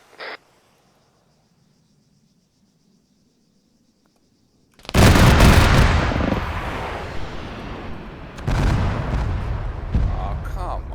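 Bomb explosions and gunfire in a video game erupt after several seconds of near silence: a sudden loud, rumbling blast that decays slowly, followed by further booming impacts and crackling shots, with a voice in the mix.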